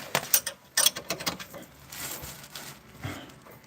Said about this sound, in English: Of course I had to use a